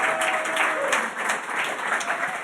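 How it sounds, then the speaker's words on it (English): A room full of people at a science talk in a pub claps steadily, a dense, continuous round of applause at moderate distance with no speech. "please, a big round of applause to Evie."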